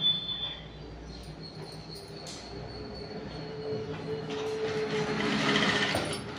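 A sewing machine runs steadily while stitching a princess-cut blouse, giving a continuous mechanical whir and rattle that grows somewhat louder toward the end, with no one talking.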